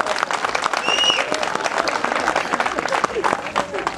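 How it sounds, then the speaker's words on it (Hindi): Loud audience applause at a Hindi comedy poetry event at the Mahakaushal fair festival in Jabalpur, dense sustained clapping for about four seconds with crowd noise and voices mixed in. "जोरदार तालियां बजाइए।"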